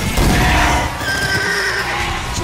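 A horse neighs loudly and close by, a single long whinny with hoof clatter and background commotion, no talking.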